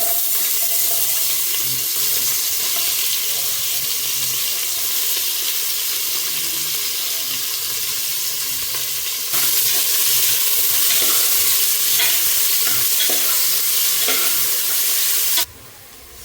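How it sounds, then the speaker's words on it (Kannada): Masala and onions fry in a pan while being stirred, giving a steady, close sizzle that runs throughout, swells slightly partway through and drops off just before the end. "ಇವಾಗ ಮಸಾಲ ಫ್ರೈ ಆಗಿದೆ ಅದಕ್ಕೆ ನಾವು ಈರುಳ್ಳಿ ಹಾಕೋಣ"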